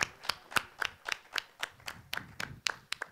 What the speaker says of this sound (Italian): Un applauso a questi ragazzi.